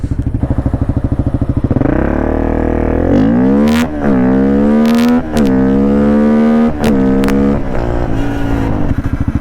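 A Honda Grom motorcycle with a swapped-in 300cc engine roars loud and close as it is ridden, revving up through several gears with brief dips between shifts and a steady high-pitched engine whine.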